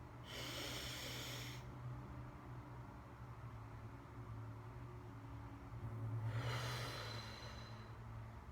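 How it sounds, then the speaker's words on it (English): Slow, deep inhalation lasting a few seconds, a soft airy hiss heard twice with a quiet pause between, close and faint over low background hum. "I'm just breathing in for 3 seconds"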